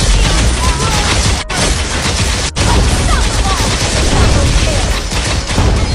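Wan Wan's ultimate ability in Mobile Legends unleashes a loud, dense burst of rapid gunfire-like shots and impacts, continuous for several seconds with two brief dropouts.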